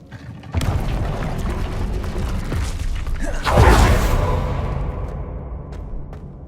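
An Incendio fire spell erupts in Hogwarts Legacy amid steady game noise, with a loud booming whoosh that peaks midway and then fades into lingering rumble.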